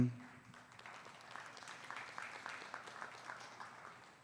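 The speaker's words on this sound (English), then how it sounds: "let's give these young kids a great round of applause" An audience at a state fair milking shorthorn cattle show applauds young exhibitors, a faint, steady patter of clapping heard from a distance and lasting several seconds.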